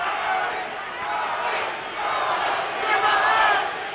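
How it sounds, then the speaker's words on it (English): Boxing crowd at a WBA lightweight title fight shouting and chanting to urge on a fighter, a loud, swelling mass of voices rising in waves and peaking near the end. "Crowd are trying to spur him on, they're shouting Tony,"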